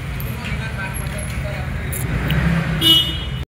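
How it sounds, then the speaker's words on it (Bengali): Car traffic in a mall basement parking area, a steady enclosed rumble of engines with a faint horn toot, with people talking over it. "এটা হলো মলের বেসমেন্ট পার্কিং এরিয়া।"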